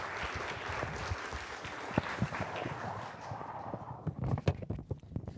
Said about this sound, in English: let's have a round of applause for all of our speakers